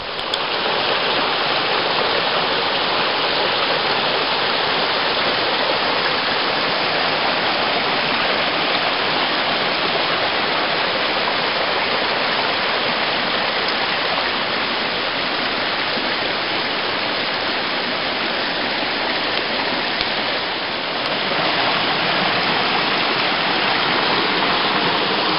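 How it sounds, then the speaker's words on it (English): A mountain stream rushes steadily beside a camping spot on a solo hike, close and loud, a constant broadband wash of flowing water with no pauses. "hope you can hear me over the water. So this is my setup for tonight. Found this awesome spot next to this cool stream"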